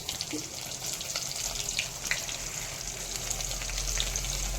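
Garlic and onion fry in hot oil tempered with whole cumin and nigella seeds while dal fry is being made, giving a soft, continuous sizzle at low level with faint watery hiss.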